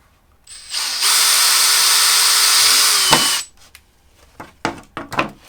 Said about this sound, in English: These are going to be for drilling through your plastic.